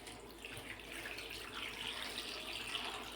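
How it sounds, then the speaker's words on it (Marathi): Tap water pours steadily into a vessel to wash freshly picked tandulja (amaranth) greens, a continuous close splashing stream with no talk. "यामध्ये पाणी टाकून"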